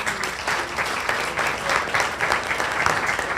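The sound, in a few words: applause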